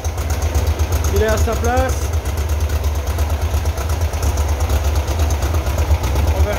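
A Volkswagen Type 3 engine idles roughly and rich just after restarting, a steady loud low rumble throughout, with someone speaking briefly over it.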